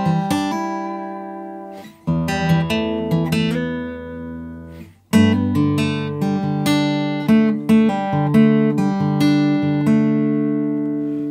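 Acoustic guitar in standard tuning plays the intro and verse of a song with some finger picking. Ringing chords and plucked notes come in bright phrases, with brief pauses near two and five seconds.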